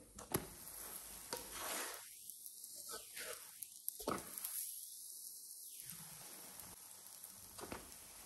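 Gözleme flatbreads filled with minced meat sizzle steadily in a pan after being flipped, a broadband frying hiss interrupted by a few brief gaps and soft clicks.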